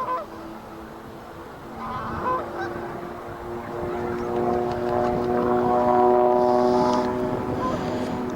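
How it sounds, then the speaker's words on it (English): A propeller aeroplane passing overhead at Pitsford Water reservoir, a droning hum that swells gradually louder as it nears, with Canada geese honking in the background. "of course we've got the inevitable noise of an aeroplane."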